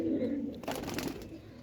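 A female pigeon gives a low, soft coo near the start, followed by faint rustling and handling noise close by.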